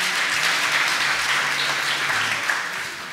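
Sustained crowd applause at a real estate awards ceremony, broad and even clapping filling the hall, with faint background music underneath.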